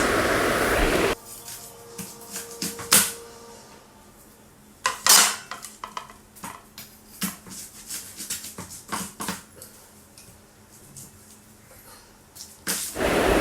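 A knife cuts through a corn cob on a plate, giving sharp clinks and scrapes of the blade against the plate in irregular bursts, some loud and close, with quieter gaps between strokes.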